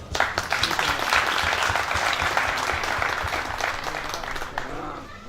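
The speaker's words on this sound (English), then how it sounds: "I think that you should recognise that with a round of applause" A room full of people at a UNRWA leadership ceremony bursts into sustained applause, steady dense clapping that fades slightly toward the end, with no talking over it.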